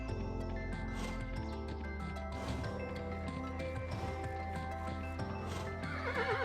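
A horse neighs and whinnies over clip-clopping hooves in the video game Kingdom New Lands, with a steady tonal music bed throughout and no speech.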